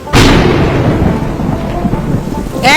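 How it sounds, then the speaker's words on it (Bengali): During a Kalbaisakhi storm, a sharp, loud thunderclap breaks out and rumbles on heavily over steady rain, then a second crack comes at the end. "দেখছিস তো কিভাবে বাজ পড়ছে"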